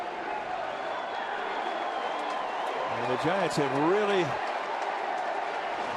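Ballpark crowd at a Giants baseball game on an Orange Friday, a broad steady murmur of cheering with scattered clapping that carries under a commentator's voice throughout.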